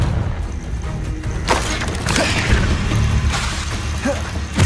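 A Confringo fire spell blast in Hogwarts Legacy, with a booming crackle burst and splintering debris over a busy combat backdrop, fairly loud and close.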